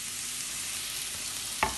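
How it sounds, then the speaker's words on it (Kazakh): Champignon mushrooms sizzle steadily as they fry in oil in a pan, a close, even hiss with a brief clink of stirring near the end. "Және шампиньондарын саламыз."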